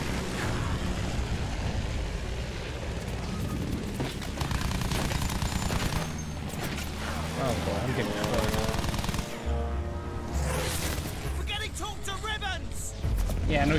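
Heavy gunfire from Battlefield 1, machine-gun bursts and scattered shots rattling almost continuously over roaring battle noise, with voices shouting over the top.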